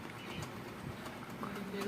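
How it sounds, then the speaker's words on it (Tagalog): Soft pigeon cooing drifts through a noisy background, faint and low, with a murmur of voices around it. "may bisita ng ibon"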